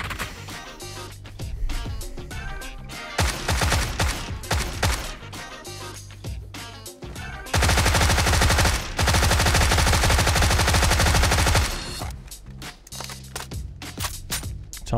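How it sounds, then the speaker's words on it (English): Tommy gun fire in the video game PUBG: loud, close bursts of rapid automatic shots, including one long continuous stream of fire, broken by short pauses and scattered single cracks. "Tommy gun, dude."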